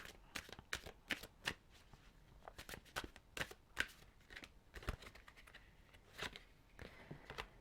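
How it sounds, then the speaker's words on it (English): Colette Baron-Reid oracle cards being shuffled and pulled, a series of crisp, sharp riffling snaps and slaps at an irregular pace, close and fairly quiet with no talking. "So I am just going to pull one more Colette Baron-Reid card."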